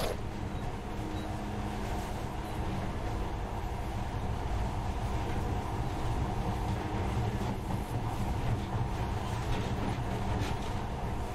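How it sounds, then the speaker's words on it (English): Steady, continuous rumble of a monorail train running through the Reich facility in the video game Metro Last Light, a loud, even rolling drone with faint rattling that holds for the whole stretch. "But now, this monorail seems magic, doesn't it?"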